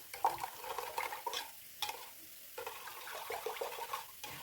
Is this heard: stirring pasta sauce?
yes